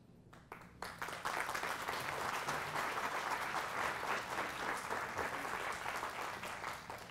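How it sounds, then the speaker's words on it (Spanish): A church congregation at a sermon bursts into applause after a brief pause, dense even clapping swelling quickly and holding steady at a moderate, roomy level. "Están muy generosos hoy con los aplausos."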